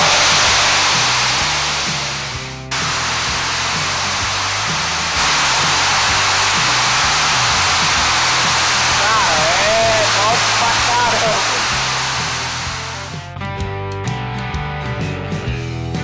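A brewery boiler bursts during a brewing session, releasing a loud, steady roar of rushing steam or water that runs on for several seconds before cutting off abruptly, leaving faint clattering behind.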